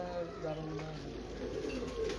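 Antique breeder pigeons, a high-flying loft breed, coo in low, soft, steady tones close by while people talk over them.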